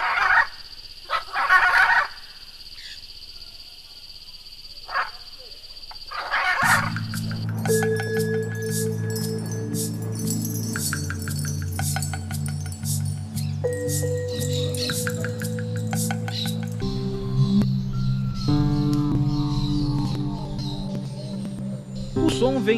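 Birds calling from the tree canopy in a large Brazilian city, several loud gobbling, squawking calls up front, then dense layered chattering and singing that continues steadily throughout.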